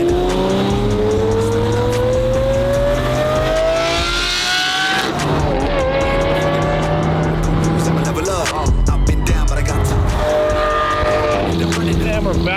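A Dodge Viper drives past loudly, its engine climbing in pitch as it accelerates, then easing and rising again in a continuous roar with road and wind noise.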